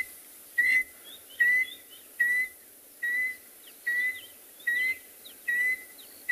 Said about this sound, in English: There's a contact call between a male and a female.